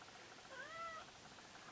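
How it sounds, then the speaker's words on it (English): A house cat meows once to be let into a room, a faint, distant, rising-and-falling call over quiet background hiss. "I might have to pause and let the cat in."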